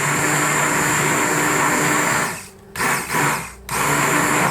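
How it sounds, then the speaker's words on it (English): An immersion blender whirs loudly and steadily through banana, milk and vanilla, then its motor dips twice in brief pauses before spinning back up. "I like to use my immersion blender to blend the banana with the milk and the vanilla extract."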